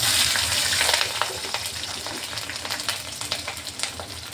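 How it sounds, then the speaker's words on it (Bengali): Nigella seeds and green chilies frying in hot oil for a taro leaf dish, a steady bright sizzle with crackling pops and occasional stirring, loud and close throughout, no voices. "দেখুন কালো জিরাটা লঙ্কাটা ভালোভাবে ভাজা হয়ে গেছে"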